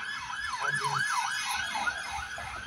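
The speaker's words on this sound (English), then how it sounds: "We've got sirens." A wailing police siren rises and falls rapidly in a warbling pattern, moderately distant over a background of traffic hum.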